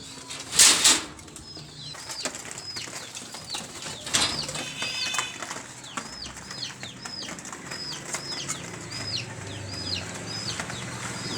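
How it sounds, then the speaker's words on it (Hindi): Pigeons in a loft burst into sudden flurries of flapping wings, two loud sharp bouts close by, against a constant backdrop of chirping and soft cooing. "लो जी दोस्तों, ये जोड़ों वाले कबूतर हैं मेरे।"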